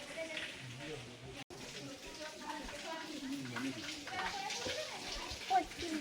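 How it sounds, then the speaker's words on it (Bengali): Water runs steadily from an underground spring at the Antargange temple in Kolar, Karnataka, a continuous splashing flow heard close by with some speech and background chatter over it. "এইখানে জল পড়ে"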